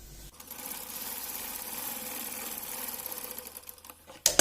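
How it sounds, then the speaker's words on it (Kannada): A sewing machine runs steadily while stitching the edge of a dress made from an old saree, producing a close, continuous mechanical whir for a few seconds before stopping with a clack. "ಈ ಕಡೆ ಎಡ್ಜ್ಗೆ ಸ್ಟಿಚ್ ಹಾಕಿ ಬಿಟ್ಬಿಡಿ."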